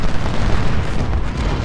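Cannon fire and explosions from the Civil War strategy game Ultimate General: Civil War at the battle of Chancellorsville, a dense, continuous rumbling barrage of booms that stays loud and low throughout.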